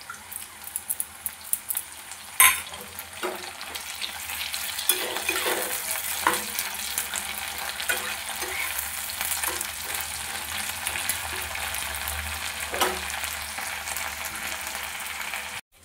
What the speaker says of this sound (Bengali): এবার এর মধ্যে দিয়ে দেবো ক্যাপসিকামের টুকরোগুলো, দিয়ে 2 মিনিটের মতো ঢাকা দিয়ে রাখবো